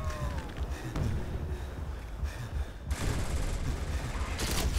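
Rapid gunfire from a Call of Duty World at War custom zombies map set in space, steady bursts layered over a thick droning game soundscape with a louder stretch toward the end.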